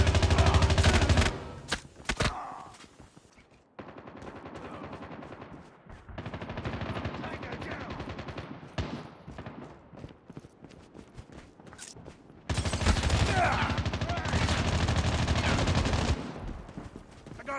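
Loud bursts of automatic gunfire rattle through a Call of Duty Mobile match, broken by short gaps and quieter stretches, with heavy sustained volleys near the end.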